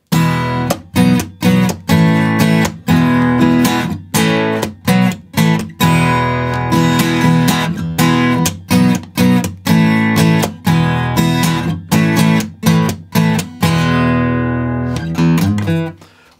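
Guitar playing a song's chorus, strummed chords in a steady rhythm with crisp attacks and short breaks, close and loud with no talking.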